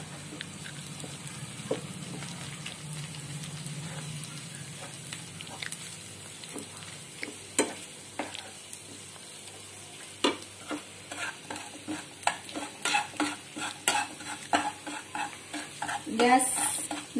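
Grated potato is stirred and fried in a pan for a Navratri sweet dish, with a soft sizzle under repeated spatula scrapes and clicks that grow busier and louder toward the end.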